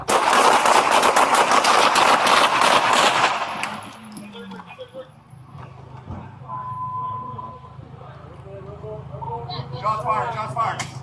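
A loud, rapid burst of gunshots during a police bodycam encounter over a knife lasts a few seconds, then gives way to quieter scuffling, clatter and voices.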